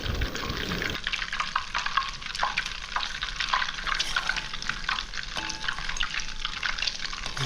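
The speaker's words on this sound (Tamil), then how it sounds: "முதல்ல பெரிய பெரிய பபிள்ஸாக வர ஆரம்பிக்கும் இந்த மாதிரி சலசலப்பும் இருக்கும்" Homemade ghee made from butter crackles and bubbles in a pan, a dense, close, continuous popping sizzle with no voices.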